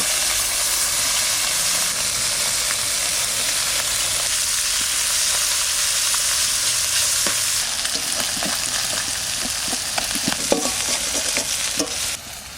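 Singi fish frying in a karahi gives a steady, loud sizzle with no pauses, and sharper crackles and pops grow more frequent toward the end.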